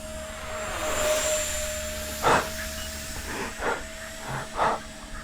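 Model jet aircraft motor held at 40% throttle during an early flight, a steady airy whine and hiss heard from a distance, with a few brief louder swells and gusts.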